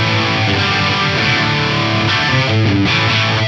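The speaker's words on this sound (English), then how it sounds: "There's two classic micro pitch shift effects in the old Eventide." Distorted electric guitar run through an Eventide-style micro pitch shift effect on an Axe-Fx III with high tracking, a thick, loud, chorused chordal passage with a widened, slightly detuned shimmer throughout.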